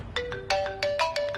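A phone ringtone plays a short repeating electronic melody of bright tonal notes, clear and close, with no talk over it.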